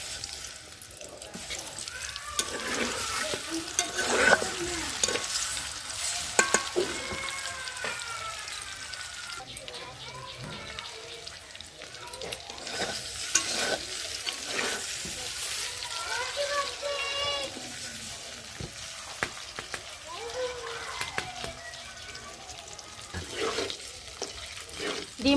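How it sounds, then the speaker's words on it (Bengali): Eggs coated in salt and turmeric sizzle in hot oil, a moderate frying hiss with stirring and clatter running beneath frequent speech. "তেল গরম হয়ে গেছে, লবণ হলুদ মাখানো ডিম দিয়ে দেব।"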